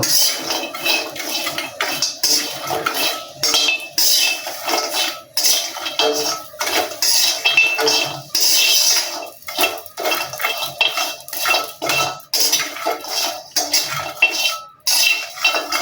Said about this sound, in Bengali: আমি শুকনো কড়াইতেই এই শুটকি মাছগুলা দিয়ে দিলাম দিয়ে এবার একটু নাড়াচাড়া করে এটা ভেজে নেব